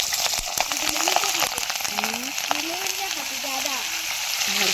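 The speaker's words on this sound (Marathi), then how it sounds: "तर चला छान मिरची आहे ना अशा थोड्याशा मिरची भाजून घेते" Green chilies frying in oil for bhaji, a steady bright sizzle with crackling pops close by, while someone talks over it throughout.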